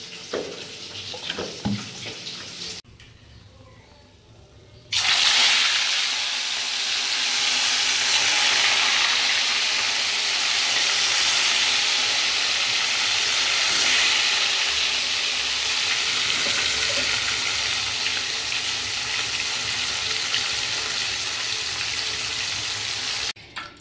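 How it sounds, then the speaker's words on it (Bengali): Katla fish pieces fry in hot oil for a kalia curry. After a few quieter seconds of kitchen noise, a loud, dense, continuous sizzle starts up close and holds steady to the end. "মাছগুলো ভাজা হতে থাক"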